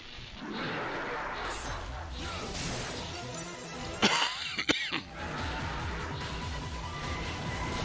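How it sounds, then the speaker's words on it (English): A couple of sharp, close coughs burst out briefly midway through, over a constant noisy background. "I'm coughing so much."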